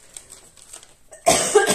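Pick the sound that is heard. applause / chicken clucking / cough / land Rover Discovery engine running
cough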